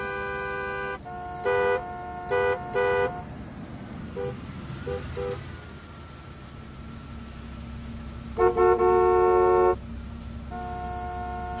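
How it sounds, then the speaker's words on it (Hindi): Car horns honk in busy afternoon city traffic over a steady engine rumble, with several short toots early on, a few quieter beeps mid-way and a long loud blast near the end. "ये थर्सडे दोपहर को इतना ट्रैफिक होना जरूरी है क्या?"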